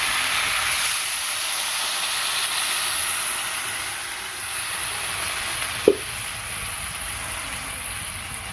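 A home-cooked curry with water just added, coming to a boil in the pan: a steady soft hiss and bubbling that runs unbroken, broken once by a brief knock near the end, with no voices.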